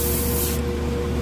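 Harder & Steenbeck Grafo T1 airbrush spraying paint, a steady close-up hiss of air that drops in brightness halfway through as the flow eases, with a faint low hum underneath and no talk.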